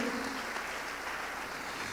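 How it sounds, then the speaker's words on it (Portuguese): Congregation applauding during a church sermon, a steady wash of clapping from a crowd, continuous and fairly distant throughout, with no voices over it. "Pode aplaudir o Senhor, irmãos"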